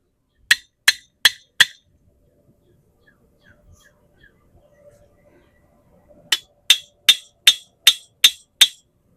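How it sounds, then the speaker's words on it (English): Sharp metallic hammer strikes on a metal T-post ring out in two quick bursts, four blows then seven, separated by a quiet pause with faint rustling. "Let me hammer it down a tad bit more."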